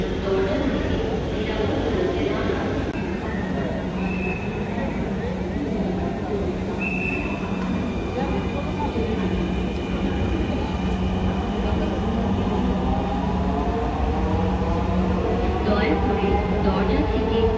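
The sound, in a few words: Dhaka metro rail train running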